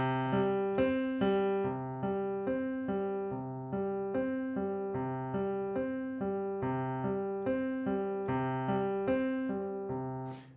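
A piano plays a short repeating pattern over and over at an even, moderate tempo, clear and close, with no voices.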